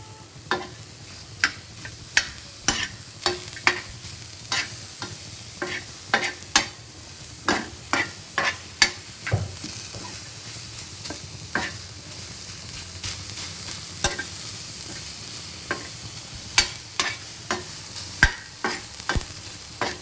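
Tomato and masala gravy frying in a pan for a spicy patodi rassa, a steady soft sizzle under repeated sharp scrapes and knocks of stirring, close and continuous with no talk.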